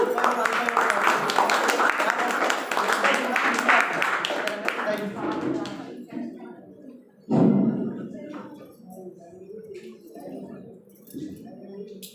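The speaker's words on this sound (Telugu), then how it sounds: "ఒకసారి గట్టిగా చప్పట్లు కొట్టారు" An audience claps loudly at a business meeting, a dense sustained burst of many hands for several seconds that fades out, followed by a sharper loud burst and scattered sounds.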